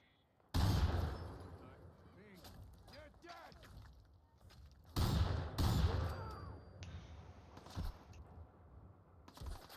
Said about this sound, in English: oh, there's where I'm getting shot from